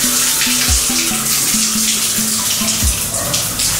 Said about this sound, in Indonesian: Akan saya coba buka keran air